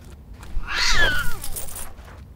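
A single cat meow, rising then falling in pitch, close and fairly loud over a low background hum, lasting about a second.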